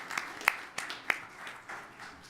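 A few sparse, scattered claps sound faintly in a Birmingham city council chamber, greeting the Winona Lady Dragons, back-to-back state champions; single sharp hand claps come irregularly, with quiet murmur between them.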